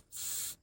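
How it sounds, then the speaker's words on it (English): A short half-second burst of aerosol spray onto a stuck spring-loaded part of a Panasonic step-through mamachari bicycle, a close, soft, even hiss that starts and stops cleanly in a quiet room. "I'm going to spray to wish me luck on this"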